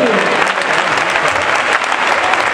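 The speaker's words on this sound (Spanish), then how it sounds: "Fuerte el aplauso para él." Loud crowd applause at an outdoor bullfighting contest in Parla, dense close clapping that carries on steadily with some voices and shouts mixed in.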